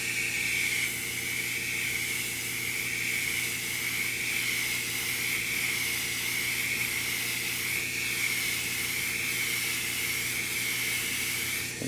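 Spray paint mist coat hissing steadily from an aerosol can onto a 1/4-scale custom model, a continuous close airy spray held for about twelve seconds with no talking.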